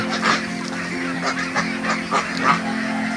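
A flock of 500 meat ducks on a farm quacks and honks in a noisy, overlapping chorus at feeding time, with repeated close calls over a steady murmur.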